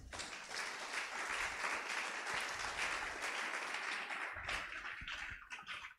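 Church congregation at a Pentecost service claps in praise, a lively continuous patter of hands that swells and dips with a short lull before rising again, no clear speech over it.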